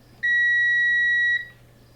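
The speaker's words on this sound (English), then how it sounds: "I'm just going to use continuity mode, and if it beeps, it's okay" A multimeter in continuity mode, checking the fuse of a Russell Hobbs coffee machine with no power, gives one steady, clear electronic beep lasting about a second over a faint background hum.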